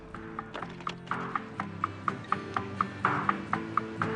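Steady clip-clop of horse hooves, evenly spaced and fairly close, with a soft musical background underneath.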